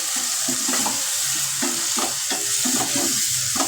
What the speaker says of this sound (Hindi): टमाटर को भूनते हुए साथ ही मैं इसमें फिर थोड़ी देर बाद इसमें आलू ऐड करूँगी